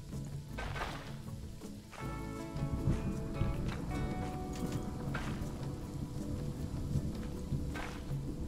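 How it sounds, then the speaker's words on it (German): Steady rain falling in the zoo-building game Planet Zoo, a constant patter lasting throughout at moderate level, with faint tonal game or music sounds layered on top. "Der Regen macht es mir nicht gerade einfacher."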